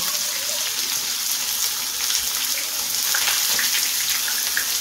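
Chopped small onions frying in hot oil with caramelized sugar, a steady, bright crackling sizzle that holds evenly throughout at close range, with no talking.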